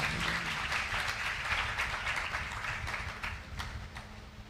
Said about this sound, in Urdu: اور خدا کے جلال کے لیے زوردار تالیاں